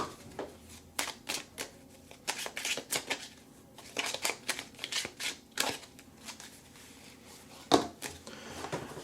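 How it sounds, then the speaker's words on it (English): Tarot mini cards from a Making Magic deck are shuffled by hand in bursts of crisp riffling and flicking, close and fairly quiet, with short pauses between flurries and one sharper snap near the end. "Let's go ahead and shuffle and throw and see what we get"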